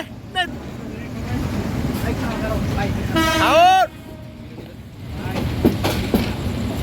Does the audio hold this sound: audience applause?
no